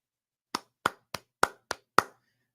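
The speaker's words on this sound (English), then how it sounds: "I'm actually clapping for Alex Van Pelt's script yesterday." A single person clapping six times, sharp close claps spaced slightly unevenly in a quiet room, with no talk or background noise.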